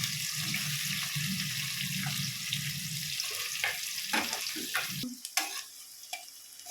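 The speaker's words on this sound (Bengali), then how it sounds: "এবার ওই তেলেই পেঁয়াজটা দিয়ে দিলাম। একটু হালকা ভাজবো, বেশি কড়া ভাজা নয়," Onion sizzles lightly in hot oil, the same oil used for frying ilish fish tail, a steady bright hiss that thins out toward the end, broken by a few soft clicks and scrapes of a utensil.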